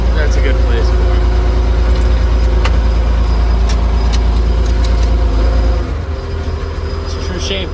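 An old Oliver tractor engine runs near a bale stack on a farm, giving a loud, constant low rumble with mechanical rattles. The drone drops and shifts in tone near the end.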